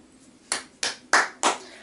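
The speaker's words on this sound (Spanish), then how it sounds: "Allí tiene su aplauso." Four slow, deliberate hand claps from a single person, each a sharp, close smack with a short gap between, over an otherwise quiet background.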